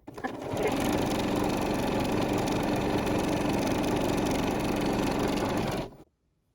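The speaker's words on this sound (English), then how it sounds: "take the 2 ends of this thing gonna sew these together now" A sewing machine stitches the two ends of a fabric face mask together, whirring in one continuous steady run for about five seconds before stopping.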